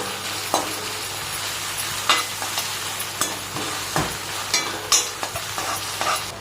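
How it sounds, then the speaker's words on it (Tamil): Ginger garlic paste sautés in a hot pan for semiya biryani, a steady oily sizzle broken by regular scraping stirs of the spatula, close and clear with no talking. "இஞ்சி பூண்டு பேஸ்ட் போட்டாச்சு. நம்ம அந்த பச்சை வாசனை போகிற வரைக்கும் நம்ம வதக்கிக்கலாம்."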